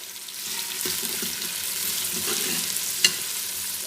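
Food for mutton biryani fries steadily in a hot pan until golden, with occasional stirring scrapes and a sharp clink near the end.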